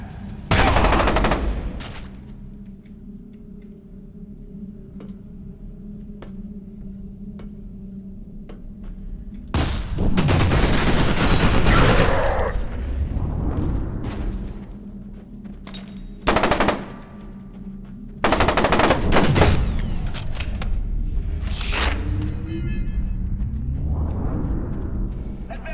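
Bursts of machine gun fire in the video game F.E.A.R. 2, loud sustained volleys separated by quieter stretches, with some game voices mixed in among the shooting.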